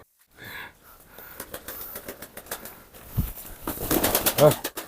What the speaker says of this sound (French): Filme aussi les pigeons là-haut.